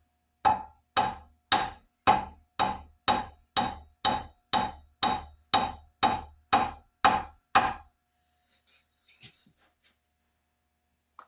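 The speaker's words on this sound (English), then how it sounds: "We will use the plumb carpenter's hammer." Fifteen steady blows of a plumb carpenter's hammer driving a dowel into a cracked axe handle ring out at an even pace, each a sharp knock with a slight ring, followed by a few faint small knocks.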